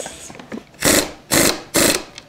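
Power tool tightening nuts during a test day, three loud close bursts of whirring and rattling impact, each lasting about a quarter second, separated by short pauses and preceded by faint clicks.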